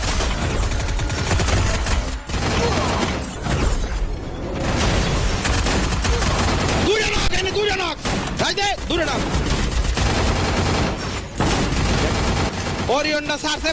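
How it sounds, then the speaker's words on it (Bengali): 1BC shotgun blasts in the Free Fire battle game, loud repeated reports mixed with other gunfire and explosions in a dense firefight, with someone talking over much of it. "তাকেও আমি একটা হেডশট মেরে দিই 1BC শটগান দিয়ে"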